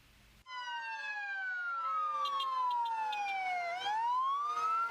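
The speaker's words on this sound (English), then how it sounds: "A parade of sirens featuring several local and federal emergency response vehicles kicked off Fire Prevention Week" A wailing siren sweeps up and down, loud and steady, joined by a second siren tone, as a parade of local and federal emergency vehicles passes close by in Guam.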